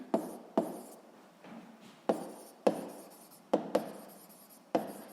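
Pen or chalk strokes on a surface while notes are written down, a series of sharp tapping onsets followed by short scratchy scrawls, close and fairly quiet, with no speech.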